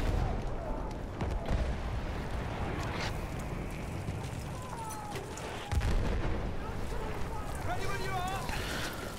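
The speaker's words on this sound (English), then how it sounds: "how many explosions does one place need?" Explosions and artillery-like blasts in the World War I shooter Battlefield 1, booming and rumbling in the distance with a few sharper cracks, under a player's voice and ongoing battlefield noise.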